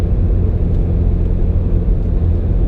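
A 400+ HP flex-fuel Subaru WRX on an ethanol blend, its engine pulling hard near 6,500 RPM with a loud, steady, heavy drone throughout.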